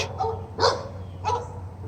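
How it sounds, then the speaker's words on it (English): A few dogs bark in a handful of sharp yips and woofs from inside a car at a marina, two main bursts over a low steady hum. "Now you hear all the barking."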